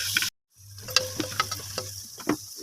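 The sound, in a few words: tomatoes frying in a pan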